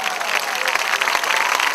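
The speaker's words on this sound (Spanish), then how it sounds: "Vamos a darle un aplauso a Cristo" A church congregation claps and cheers together in a broad, dense wash of applause, loud and sustained throughout with crowd noise mixed in.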